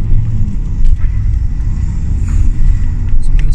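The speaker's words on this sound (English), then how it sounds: "the air just kind of whooshing through the turbo." Remapped Audi A4 with no exhaust, heard from the cabin with the window down, giving a continuous close rumble with a soft turbo whoosh running through it and no voices.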